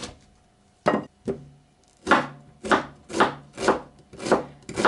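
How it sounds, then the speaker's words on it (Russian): A knife cuts an onion into thin half-rings on a wooden board, about eight crisp, evenly spaced chopping strokes, close and clear with no talk. "Лук режем вот такими полукольцами"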